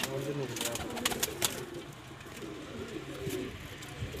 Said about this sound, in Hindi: ये कबूतर हैं जी माशाल्लाह से